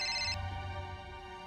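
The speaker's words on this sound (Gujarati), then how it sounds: "અત્યારે કોણ ફોન કરે છે આ કામ ટાણે?" A phone ringtone chirps loudly for a brief moment, then cuts off abruptly, leaving a faint low hum behind.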